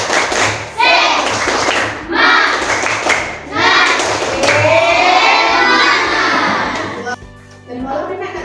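A group claps in a quick rhythmic pattern of the Indonesian "tepuk semangat" while voices chant together loudly, repeating the sequence several times in a lively classroom-like room.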